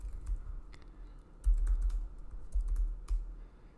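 Quick bursts of computer keyboard typing sound close and clear, with irregular keystrokes and a few heavier clacks, while a data-download script is entered in Python.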